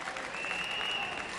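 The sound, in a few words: applause for Bob Hope on stage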